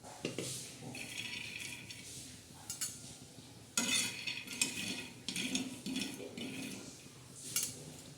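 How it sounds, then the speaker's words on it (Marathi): Peanuts dry-roasting in a pan, stirred with a utensil that makes intermittent scraping and clinking bursts against the metal, close and moderately loud, with no talking. "आता आपण थोडे शेंगदाणे भाजून घेणार आहोत"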